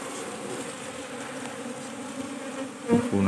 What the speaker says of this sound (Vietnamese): Khu này chắc nó vẫn còn nhiều ong lắm.